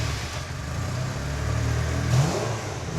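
A vintage Ferrari engine runs loud and near, a steady mid-pitched roar that swells slightly as it revs, with no talking.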